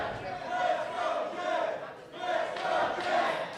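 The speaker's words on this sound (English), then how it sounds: "This crowd rallying behind Jedd. You can hear them chanting, "Let's go, Jedd, let's go, Jedd."" A wrestling show crowd at WrestleARTS 8 chants a two-part rallying cry in a steady repeating rhythm, loud and reverberant, filling the hall with massed voices.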